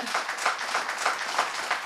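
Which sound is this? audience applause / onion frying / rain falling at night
audience applause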